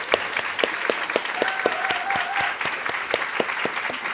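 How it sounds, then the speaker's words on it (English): An audience at a conservation panel event applauds the panelists, with a moderate patter of distinct handclaps lasting a few seconds and a faint whistle partway through. "Round of applause, please."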